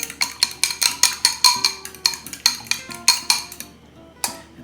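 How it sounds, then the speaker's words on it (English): Fork beating eggs in a bowl for pasta dough, a quick run of sharp metallic clinks in a steady rhythm that stops briefly and ends with one last tap, close and clear with no talking. "Now I take my eggs, 9 ounces, beat them up with a fork."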